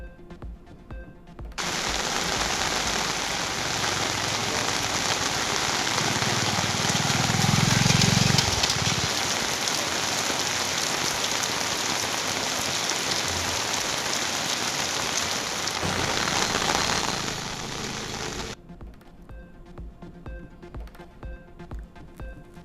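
Rain falls steadily on surfaces in Tiruvallur district, Tamil Nadu, a loud, dense hiss that runs for most of the stretch before cutting out abruptly.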